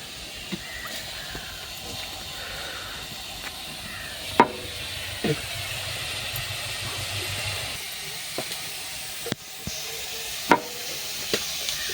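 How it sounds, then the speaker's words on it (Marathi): A steady hiss of onion sautéing in oil in a hot pan, broken by a few sharp clicks and taps of a utensil, with no voices. "कढई तापायला ठेवते आता कढई तापाय ठेवली कांदा परतून घेते"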